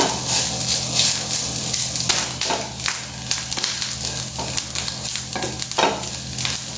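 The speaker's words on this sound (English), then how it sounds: "now we'll saute it till it turns light brown in color" Dry and fresh prawn curry mixture for Goan samarachi kodi sautéing until light brown, a continuous close sizzle with scraping stirs at irregular intervals.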